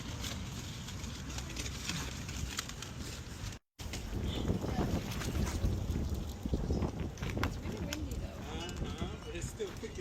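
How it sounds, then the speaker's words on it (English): Steady wind gusting through a built firepit tunnel, a constant rushing roar with microphone buffeting and a brief dropout, while people talk over it outdoors. "See that wind getting through there? That's why we built this tunnel."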